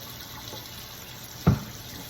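Tap water runs at a kitchen or bathroom sink during hand washing, a steady low wash of water with one brief splash or knock partway through, close by and with no talk.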